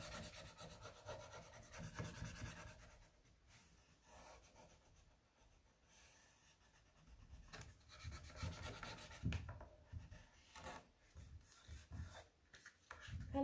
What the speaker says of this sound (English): I'm trying to rub a little bit into the crack there